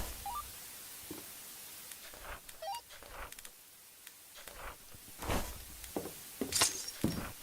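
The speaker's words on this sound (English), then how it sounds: "It's breaking a lot of glass." Glass repeatedly shatters and clinks in a Roblox game, a series of sharp crashes and tinkling fragments spread across the stretch, some louder than others, with no talk.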